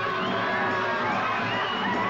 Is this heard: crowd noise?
yes